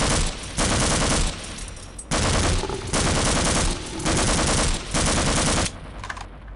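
Automatic weapon fire in the Half-Life ending fight, loud sustained bursts of rapid shots in four long strings separated by brief pauses.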